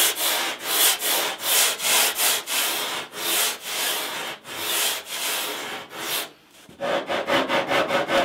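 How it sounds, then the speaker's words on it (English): A hard sanding pad with 36-grit paper scrubs down a foam surfboard blank in rhythmic back-and-forth strokes, each a loud breathy rasp, steady at first, then quicker and shorter strokes after a brief pause. "So now I'm going to bring it down with the hard pad to a clean line."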